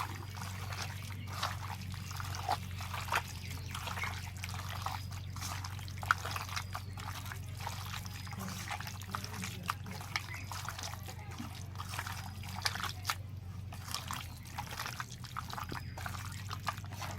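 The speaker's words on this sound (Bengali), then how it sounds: "সমস্ত মশলা আমি মাংসের সঙ্গে ভালো করে মাখিয়ে নেব।" Chicken meat being kneaded by hand with ground spice paste, salt and mustard oil makes steady, close, wet squelching and slapping over a low constant hum. No one speaks.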